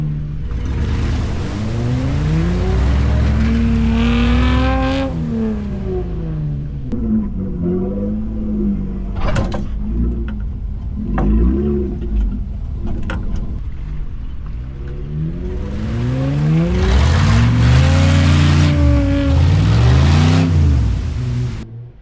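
A Chevy stuck in a bog revs hard again and again, the engine climbing and dropping in repeated surges with a low rumble, close and loud, with a quieter stretch in the middle.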